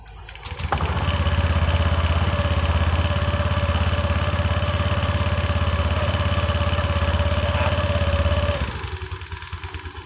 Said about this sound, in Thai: ผมแค่สตาร์ทเครื่องนะครับ แต่ผมจะไม่เร่งนะครับ